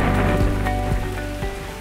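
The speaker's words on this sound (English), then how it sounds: "This collision creates lightning and thunder, along with heavy rain and sometimes even hail." Heavy rain pours steadily in a thunderstorm, a dense, loud, close patter of drops on surfaces with no voices.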